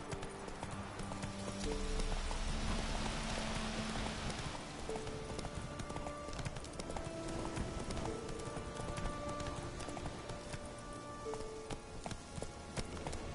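Roach, the horse in The Witcher 3, gallops with steady, rhythmic hoofbeats over a continuous game soundscape with layered music, holding at a fairly even level throughout.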